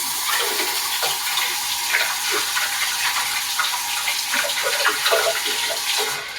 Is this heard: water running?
yes